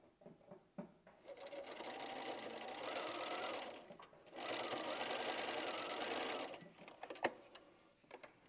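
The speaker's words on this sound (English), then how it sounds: "we're going to sew this all the way around now to do the second round" A sewing machine stitches around a freestyle-pieced quilt block in two sustained runs of rapid, buzzing needle strokes, separated by a brief pause, heard quietly and close.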